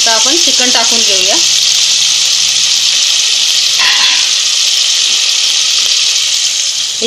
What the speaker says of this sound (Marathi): आता आपण चिकन टाकून घेऊया